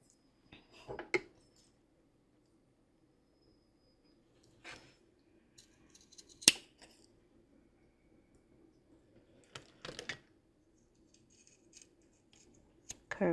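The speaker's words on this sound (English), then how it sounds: "So I'm going to cut this part out." Scissors snip through a paper strip in a few separate short bursts with pauses between cuts, close and fairly quiet, with light handling rustle around them.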